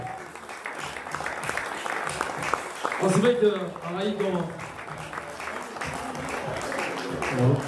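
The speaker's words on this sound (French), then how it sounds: "Je pense qu'il faudrait l'applaudir, s'il vous plaît" Audience applause for a boxer at a weigh-in, a moderate ongoing clatter of clapping running under someone speaking over a microphone and other voices in the room.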